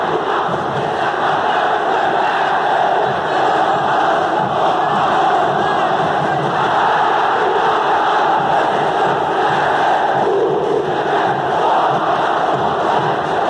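Ceará (Vozão) fans roar at Castelão stadium, a loud, unbroken wall of crowd noise with chanting and shouting that holds throughout.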